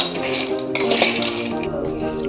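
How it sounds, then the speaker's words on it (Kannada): Peanuts dry-roast in a metal pan over a low gas flame for peanut candy, rattling and clinking against the pan as they are stirred. A few brief scraping and clattering bursts stand out close by. "ಇವಾಗ ಕಡಲೆ ಬೀಜನ ಚೆನ್ನಾಗಿ ಫ್ರೈ ಮಾಡ್ತೀನಿ ಲೋ ಫ್ಲೇಮಲ್ಲಿದೆ ಗ್ಯಾಸು"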